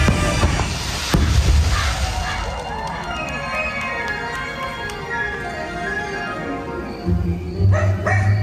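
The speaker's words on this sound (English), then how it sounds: "Hey, look! A dog! It's a ghost dog!" A dog barks and yips close by, with a crash near the start and more barking toward the end amid background noise.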